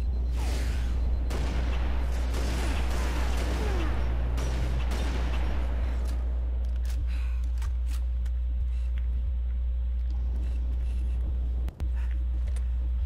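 A grenade blast and gunfire in Halo Reach make a loud, rumbling roar with scattered shots for about six seconds, then fade to a low, quiet background with occasional faint clicks.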